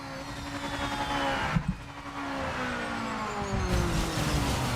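Race car engines scream at high pitch in a racing video game, with rising and falling tonal whines running throughout and a brief thump near the middle.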